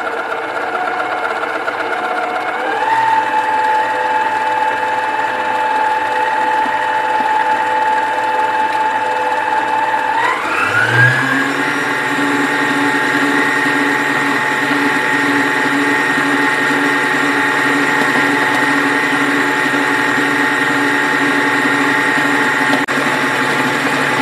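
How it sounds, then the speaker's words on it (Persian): An electric hand mixer whirs steadily through dough for Persian pastry as flour is added spoon by spoon, its motor tone stepping up in speed twice and then holding a loud, continuous drone. "همزن رو روشن میکنم."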